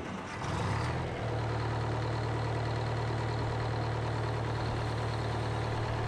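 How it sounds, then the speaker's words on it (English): A GM Detroit Diesel 4-71 two-cycle engine powering a Frick sawmill at a county fair cranks, catches within about a second, and settles into a steady, loud, droning idle with a low constant hum. "this engine is a GM diesel engine. It's a two-cycle engine. It's a model 4-71"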